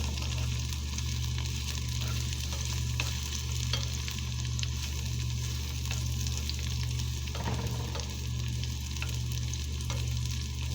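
Peppers and onions fry in a pan for a homemade sub, giving a steady, close sizzle that runs unbroken throughout with no one talking.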